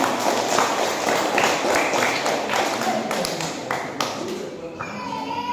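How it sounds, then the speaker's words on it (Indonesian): A group of children claps their hands at a religious lesson, a scattered burst of bright claps mixed with chatter and voices that fades toward the end. "Tepuk tangan dong buat teman-teman."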